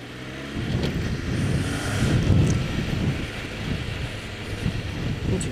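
A Yamaha XJ 600 motorcycle with a used replacement engine, formerly restricted to about 48 hp, accelerates on a test ride, its engine drone rising under heavy rumbling wind noise.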